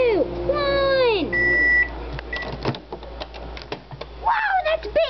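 A microwave oven holding a marshmallow finishes with a short series of electronic beeps near the start, followed by clattering and handling sounds and excited voices, moderately close.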